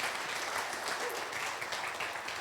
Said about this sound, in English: So just quick round of applause for Ben being a badass.